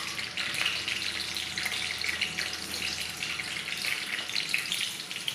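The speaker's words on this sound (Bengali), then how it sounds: "এই কড়াইতে দিয়ে দেব তেল। তেলটা গরম হলে দিয়ে দেব দুটো শুকনো লঙ্কা" Dried and green chilies fry in hot oil in a wok, giving a steady, close crackling sizzle that runs unbroken throughout with no voices.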